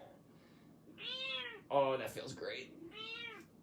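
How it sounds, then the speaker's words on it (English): A cat lying on a person's chest meows twice, close and clear, with someone talking briefly between the meows. "I've got this kitty cat on my chest"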